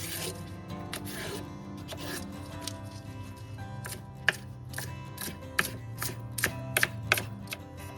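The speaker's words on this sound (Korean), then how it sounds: "대파는 가른 다음 큼지막하게 썰어주세요" A knife cuts a split green onion (daepa) into large pieces on a cutting board, a run of close, crisp chops that start sparse and quicken into a tighter rhythm, with no talking.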